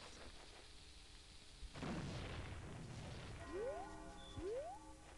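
A single deep boom as boulders are blasted apart in Zelda: Majora's Mask, followed by two rising chime-like tones, all quiet and unaccompanied by speech.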